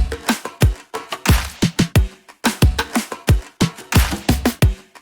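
Kick drums from an FL Studio track hit punchy and deep in a fast, syncopated electronic pattern alongside crisp percussion hits, loud and upfront.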